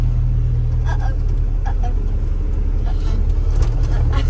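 A 1989 Chevy S10 pickup truck with manual steering drives slowly around a lot, its steady low engine rumble running throughout under intermittent voices of people talking.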